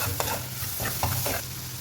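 Beef pepper chukka fries in oil in a kadai, a steady close sizzle with soft scraping stirs over it and no voices.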